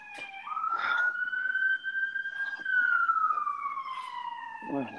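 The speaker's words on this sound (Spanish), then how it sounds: "la ambulancia se escuchó clarito" An ambulance siren wails in a long rising and falling sweep, fairly close and loud, with a person talking faintly underneath.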